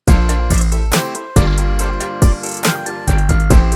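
A bright, percussive clavinet preset from Analog Lab plays choppy, funky chords in a punchy rhythm, loud and close, with short stabs and brief gaps between them.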